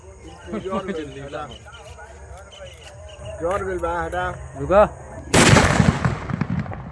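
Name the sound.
explosion of firecrackers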